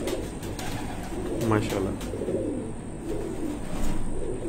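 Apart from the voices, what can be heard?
pigeons cooing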